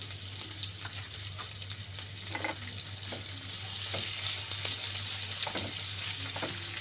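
Chopped medium onion frying over a low flame in a pan for suji upma, a steady broadband sizzle with occasional stirring scrapes, close and continuous, no talking.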